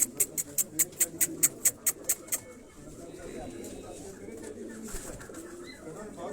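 Close cooing of crossbred teddy and black-faced pigeons rolls on as a low, continuous burble, opened by a quick train of about a dozen sharp, evenly spaced high chirps that stop after two seconds.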